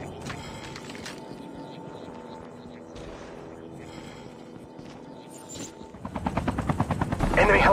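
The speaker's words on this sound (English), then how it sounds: "Enemy helicopter!" An enemy helicopter flies in the mobile game Call of Duty Mobile, its rotor droning steadily under game gunfire and effects, then swelling louder and closer near the end.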